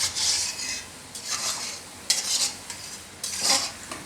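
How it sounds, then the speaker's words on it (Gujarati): Raw banana kofta frying in hot oil on low heat, a crisp sizzling hiss that swells in four short bursts as the pieces are stirred and turned, fairly close with no talk. "તો આ રીતના આપણે તરી લેવાના"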